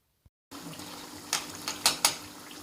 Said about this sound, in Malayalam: നല്ല ചൂടായ എണ്ണയിലേക്ക് ഇട്ട് കൊടുക്കാം.